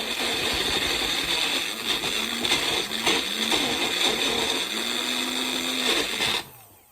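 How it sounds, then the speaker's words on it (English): A Magic Bullet blender whirs loudly and continuously, its motor pitch wobbling as contents churn, then stops abruptly near the end. "in case you never heard what a blender sounds like, this is what it sounds like"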